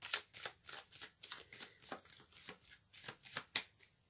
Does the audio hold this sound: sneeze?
no